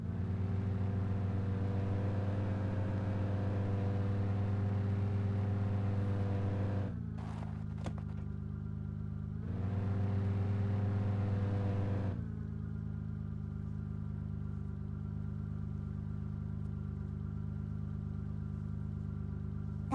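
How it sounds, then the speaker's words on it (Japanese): Car engine idling in the video game DayZ, a steady low droning hum that holds for the whole stretch, briefly drops away, then comes back and runs on evenly with no voices. "すごいや、この車エンジン音が鳴る。"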